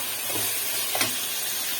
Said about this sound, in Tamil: அப்புறம் கொஞ்சம் தக்காளி, புதினா, கொத்தமல்லி போட்டுக்கலாம். நல்லா இது வதக்கட்டும்.